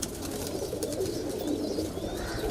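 Pigeons coo in a loft of kalpare high flyers, a low steady murmuring that runs continuously across the clip beneath faint background hiss.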